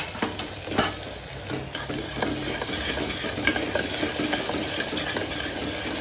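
Ground spices including turmeric, coriander-cumin, red chili, asafoetida and garam masala roast in a hot pan for sev usal, with a continuous sizzle and frequent scraping stirs, close and fairly loud with no talking.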